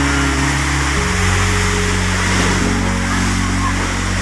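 Big ocean waves breaking on a beach near a small boat, a loud, continuous rushing roar with a steady low motor-like drone running underneath throughout.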